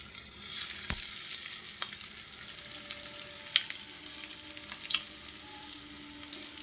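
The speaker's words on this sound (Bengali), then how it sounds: "তারপরে এখন একটা একটা করে এখানে দিয়ে দেবো তেলে" Aloo tikki patties frying in a little white oil on a tawa, a steady close hiss and crackle with a few sharp pops and light clicks.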